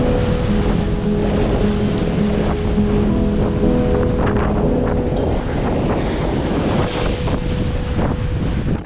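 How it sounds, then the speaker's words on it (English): Large ocean waves break over a bar at sea off the coast on a solo sailing passage from Tonga to Tasmania. The wash is loud and continuous, mixed with heavy wind buffeting and a steady low engine or hull drone throughout. "there is a huge bar with breaking waves"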